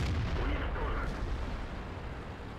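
Dense, continuous booming of tank gunfire and shell impacts from the World of Tanks video game, a loud rumbling wash with overlapping heavy blasts throughout.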